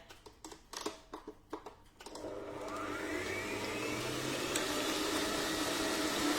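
An electric mixer beats 300 grams of margarine until fluffy, with a few quick clicks and knocks before the motor starts, then a steady loud whirring drone.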